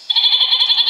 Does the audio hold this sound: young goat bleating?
yes